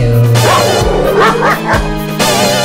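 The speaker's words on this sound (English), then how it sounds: "A dog barked at them and they ran too." A dog barking in a children's Halloween song, several quick yapping barks and whimpery yips close up and loud, with sung or spoken voice mixed around them.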